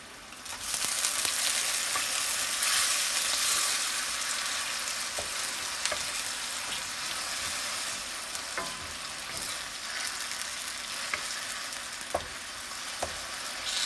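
Shrimp sizzle and crackle as they are stirred through bubbling Korat noodle sauce in a pan, a steady close frying hiss with occasional sharp pops and no talking.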